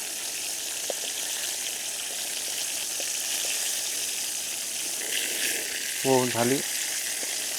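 Food sizzles steadily in hot oil, a constant low frying hiss through the whole stretch, with a short voice near the end and a faint metallic clink.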